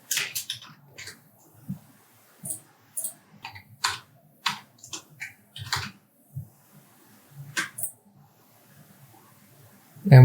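Keyboard typing while a vendor name and a street address are entered into a computer form, heard as scattered bursts of light clicks with pauses between them, close and fairly quiet.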